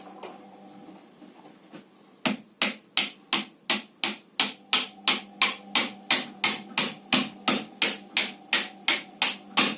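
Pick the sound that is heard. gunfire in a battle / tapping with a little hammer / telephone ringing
tapping with a little hammer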